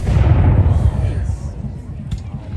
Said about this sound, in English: You can hear the shocking concussion of that little cannon going off.